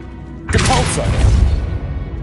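Depulso spell cast in the Hogwarts Legacy video game, a sudden loud whooshing blast that hits at once and then fades out over about a second and a half.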